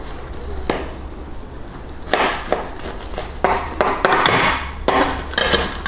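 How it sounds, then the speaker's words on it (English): A knife slices a block of homemade doner kebab meat in half on a board, giving scattered sharp chopping knocks and scraping contacts, some clustered in quick bursts, close and fairly loud. "So if we just slice it down the middle."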